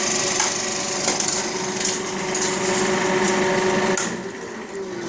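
Philips FP3 35mm film projector running a reel, giving a steady mechanical whir and clatter close by that eases slightly toward the end as the motor slows.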